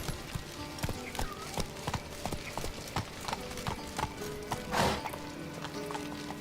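Roach, the horse in The Witcher game, gallops with rapid, regular clip-clop hoofbeats, close and steady, with a short breathy snort or whinny near the end.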